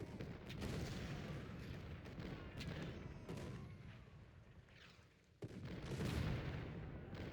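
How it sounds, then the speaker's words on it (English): Cannon artillery fire in the Ultimate General: Civil War video game at the Battle of Stones River, a steady rumbling barrage of overlapping booms and crackling shots, with one sharp blast near the end. "Now the cannons can just do their work."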